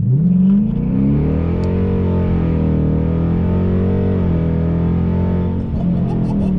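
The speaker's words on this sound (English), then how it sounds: "I'm gonna gun it here and see. I'll take off traction control." Dodge Challenger fitted with a 3.90 posi rear, launched hard with traction control off: a loud, sustained engine roar whose pitch climbs and wavers steadily as it pulls, close and continuous with no talking.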